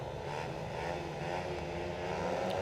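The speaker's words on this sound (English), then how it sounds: "Bikes pick up the revs on heat 9." Speedway motorcycles revving together at the start gate before a heat, a sustained droning engine roar heard from a distance, steady and moderately loud with no voices.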